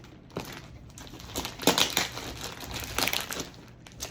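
A plastic package's wrapping crinkles and crackles in bursts as it is pulled open by hand, close and uneven with louder rustles in the middle.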